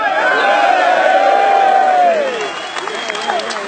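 A large crowd at a patriotic rally in England cheers, whoops and shouts loudly and steadily, then eases slightly toward the end as voices keep calling out.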